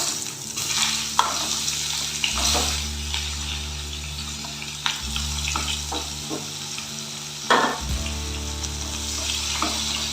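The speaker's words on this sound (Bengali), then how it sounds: "আমি কালো জিরে ফোড়ন দিয়ে দিচ্ছি কুচানো পেঁয়াজ" Black cumin seeds and chopped onion fry in hot oil with a loud, steady close-up sizzle and occasional stirring taps. A low droning hum rises and falls in the background.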